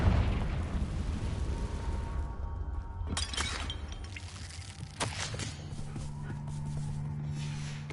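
Confringo fire spell going off in Hogwarts Legacy: a loud burst near three seconds and another near five, each a sharp crackling blast that trails into a rumbling, roaring tail over a steady dense background.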